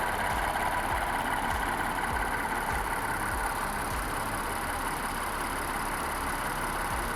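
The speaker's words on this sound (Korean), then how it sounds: "엔진 소리 일정합니다" A steady, even engine idle from a second-generation Lincoln Aviator 3.0 AWD SUV rumbles continuously throughout, with no speech and no change in pitch or loudness.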